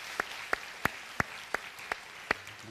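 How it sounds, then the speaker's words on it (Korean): A handful of sharp hand claps ring out at a slow, steady pace during a Sunday church service, about seven in a row with quiet room tone between. "우리 박수하겠습니다"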